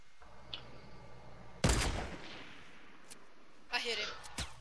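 Video game gunfire, two loud bursts of shots a couple of seconds apart with quieter stretches between, heard close with faint background sounds.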